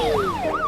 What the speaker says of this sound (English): So, can we Use the siren? Of course. It's what the siren was built for.